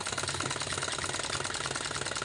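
A sewing machine runs a straight stitch on a sleeve design, a fast, even mechanical rattle and hum throughout the short stretch, close and moderately loud with no talking.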